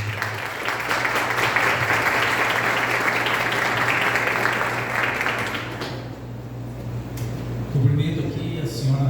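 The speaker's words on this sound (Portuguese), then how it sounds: "a quem recepcionamos com uma salva de palmas" A business awards evening audience applauds the association president as he comes on stage, dense sustained clapping for about six seconds before it thins and a voice starts over the fading claps.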